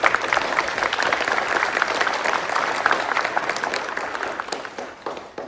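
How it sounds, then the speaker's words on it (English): Sustained applause from a crowd at a Students of the Month recognition event, dense clapping throughout that tapers slightly toward the end. "Let's give them a round of applause."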